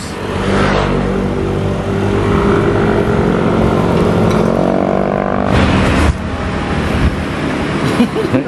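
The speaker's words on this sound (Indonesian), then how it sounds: "Bus." A large bus passes on a city street in Malang at night, its engine swelling loud and close with shifting tones before the noise drops off sharply as it goes by.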